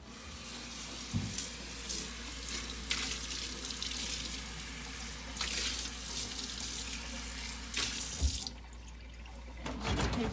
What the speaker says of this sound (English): At this point you could rinse it off in the sink.